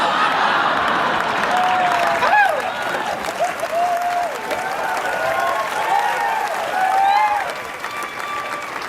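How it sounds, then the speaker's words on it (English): Audience clapping at a stand-up comedy show fills the room with steady, fairly loud applause, joined by scattered voices and a few chuckles rising over it. "there's a lot of you clapping"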